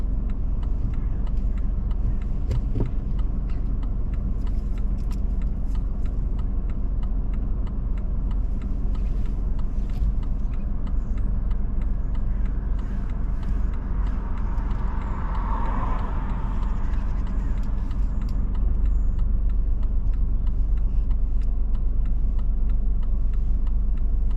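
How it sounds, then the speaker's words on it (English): A car reverses slowly along the curb on the right, its engine a steady low rumble close by throughout, with faint clicks and no speech. "I like to reverse back 2 car lengths, keep close proximity to the curb on the right"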